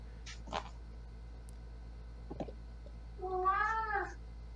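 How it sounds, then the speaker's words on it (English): A cat gives a short, clear meow near the end, preceded by a few faint clicks and knocks, in a quiet indoor room with a steady low hum. "That's a cat, huh?"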